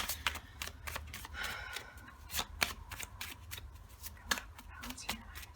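A deck of character cards being shuffled by hand, with quick, crisp riffling snaps and flutters repeating at close range against a quiet room.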